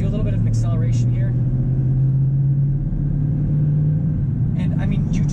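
A 2018 Chevrolet Silverado 3500 diesel truck accelerating, a steady low engine drone heard from the cabin with a rising tone, while a person talks at the start and end.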